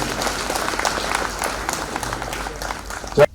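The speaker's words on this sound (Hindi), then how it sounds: "जोरदार तालियां इस मौके के लिए।" Crowd applause at an official ceremony in Srinagar, steady dense clapping from a large audience filling the space evenly, ending abruptly with a brief louder burst.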